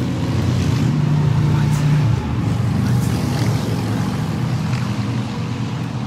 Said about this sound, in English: this is Broadway, one of the busiest, loudest streets in Denver